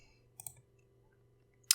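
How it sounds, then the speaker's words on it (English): Two quiet computer mouse clicks while saving an edit on a map page, one around the middle and a sharper one at the end, over near-silent room tone. "And I'll just save that by clicking there in the top right corner."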